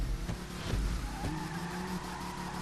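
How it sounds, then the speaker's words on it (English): An Albany Hermes muscle car in GTA 5 spins its wheels off the line, tires squealing and skidding over a rumbling engine that surges and revs, loud and close throughout. "Got a lot of wheel spin off the line there."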